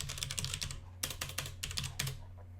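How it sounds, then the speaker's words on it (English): Quick bursts of keystrokes on a computer keyboard as a command is typed into a terminal, close and crisp clicking in short runs with brief pauses, no talking. "I'm going to type gfortran version"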